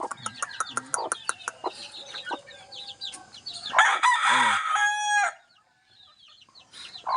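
Chickens with small chicks cluck and peep close by, with a rooster crowing loudly in the middle before a short quiet, the calls sometimes overlapping.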